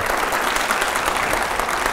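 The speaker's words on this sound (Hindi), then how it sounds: "जोरदार तालियां हो जाए इस बार" Dense, steady clapping from a studio audience on a television panel show, loud and continuous throughout the short stretch.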